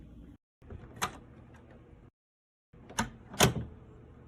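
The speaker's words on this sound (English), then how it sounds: "I literally just had a door and opened it and closed it." An ordinary household door is opened and closed, giving a few sharp clicks and thumps in two separate bursts with silent gaps between, close and fairly quiet, with no voices.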